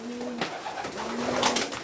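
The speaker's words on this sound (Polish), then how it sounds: "Mocne gołębie." Racing pigeons coo softly inside a loft, with a few low, close calls and some rustling around them and no talk.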